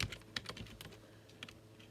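Quick, uneven clicks of fingers typing on a computer keyboard, soft and close, a short burst of keystrokes with brief pauses and no voices.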